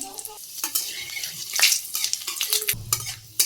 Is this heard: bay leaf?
yes